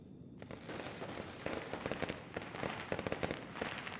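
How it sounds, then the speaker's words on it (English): Firecrackers in the video game Nine Sols, a quiet run of rapid crackling pops that bursts irregularly over a faint hissing background, with no talk. "Wow, firecrackers."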